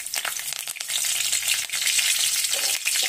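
Curry leaves and garlic sizzling in hot oil in a pan, a loud steady crackle and hiss with sharp pops throughout, close and continuous with no voices.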